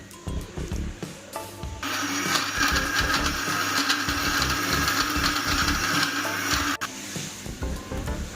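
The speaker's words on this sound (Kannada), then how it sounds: "ಇದನ್ನು ನೀರು ಹಾಕಿ ಒಂದ್ಸಲಿ ಮಿಕ್ಸಿ ಮಾಡ್ಕೊಳ್ಬೇಕು" A kitchen mixer grinder blends masala with tamarind, turmeric and water for okra sambar. It starts after a short lead-in, runs as a loud steady whirring grind for several seconds, then stops abruptly and sputters down. No one speaks.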